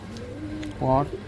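A pigeon gives a short, low coo close by, among a loft of flying pigeons in Malda, Pakuahat, set against a murmur of background voices and ambient noise.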